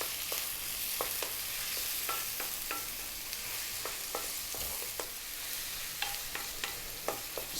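Thin-cut sausage and ginger stir-fry over high heat for Thai holy basil fried rice, a steady quiet sizzle broken by frequent sharp clicks of a utensil scraping and tossing in the pan.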